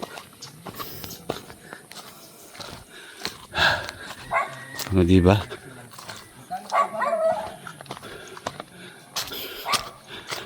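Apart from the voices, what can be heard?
dog barking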